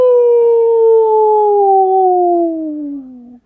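A voice imitates a fire engine siren with one loud, sustained wail that slowly slides downward in pitch before cutting off.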